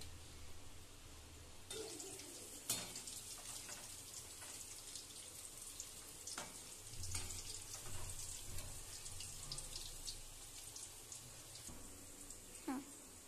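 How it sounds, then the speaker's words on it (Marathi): Shankarpale frying in oil on low gas, a faint, steady bubbling hiss with a few sharper crackles and pops scattered throughout, quiet and close. "त्याने आपल्याला लो गॅसवरच ठेवून शंकरपाळे तळायचे तर ज्याने आपले शंकरपाळे क्रिस्पी होतील"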